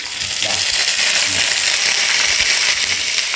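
Onion, chili, green chili and garlic fry in hot oil for a rice tempering with a steady, loud hiss and crackle throughout, plus a few light clinks.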